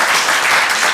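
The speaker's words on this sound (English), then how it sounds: "Let's give Angelo Costanza a round of applause" Audience applause filling a room, a dense wash of many hands clapping at once, loud and continuous through a single brief second.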